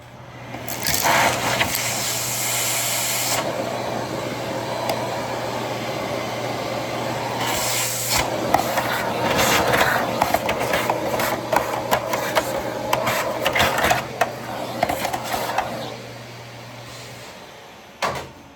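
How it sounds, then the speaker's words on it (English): A vacuum cleaner runs steadily on a stripped-down Dyson DC07 under refurbishment, a loud continuous whir with bursts and surges as the nozzle works, cutting out near the end. "we'll put the vacuum on that now."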